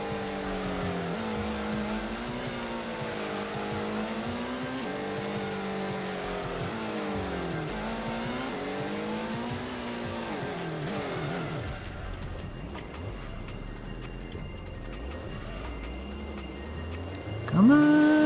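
Racing car in the PS1 game Gran Turismo during an all-night endurance race, engine droning and wavering through gear changes with tire squeal as it brakes and drifts, then a sharp burst of noise at the end.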